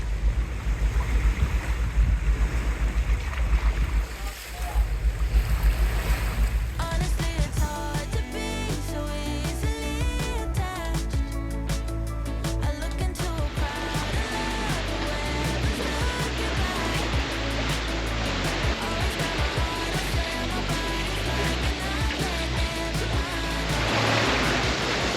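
Sailboat running downwind through waves on the way back to a marina, with steady wind and water rushing close to the microphone. Music enters partway through and plays over the sea sound for the rest.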